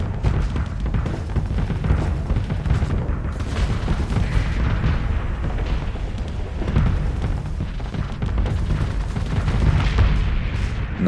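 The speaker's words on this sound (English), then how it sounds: "Shots going in." Dense, continuous weapon fire and booming explosions from a space battle in the game Starsector, loud and rumbling throughout with overlapping blasts and no pauses.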